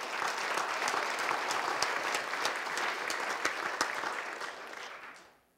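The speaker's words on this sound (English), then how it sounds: "I want you to give him a round of applause." Guests at a college sports hall of fame banquet applaud, a dense, sustained burst of clapping from a sizable crowd that holds steady for several seconds and then fades out at the end.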